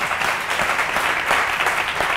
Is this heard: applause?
yes